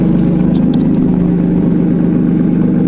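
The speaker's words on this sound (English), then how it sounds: "The M Performance exhaust sounds so good." A BMW F80 M3 with an M Performance exhaust idles with a deep, raspy exhaust rumble, steady and loud throughout with no speech.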